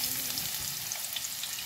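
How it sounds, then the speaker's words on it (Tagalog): Garlic frying in hot oil for chicken liver adobo, giving a steady, bright, crackling sizzle with faint stirring, close and fairly quiet, with no talking. "Mainit ng mantika, lagyan natin yung bawang."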